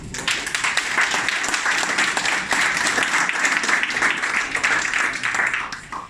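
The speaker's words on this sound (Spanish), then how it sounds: "Un aplauso." Warm audience applause greeting a guest speaker at a talk in an art college, a thick, continuous patter of many hands that stays steady for about six seconds before starting to fade.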